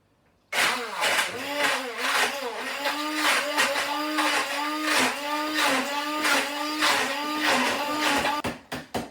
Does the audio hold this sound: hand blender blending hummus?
yes